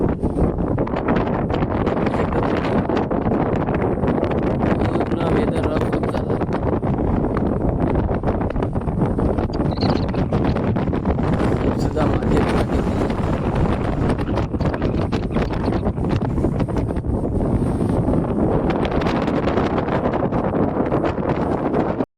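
Strong wind roars steadily at sea aboard a merchant ship rolling in bad weather between Iran and Dubai, a loud continuous blustery rush with gusting surges and no talk.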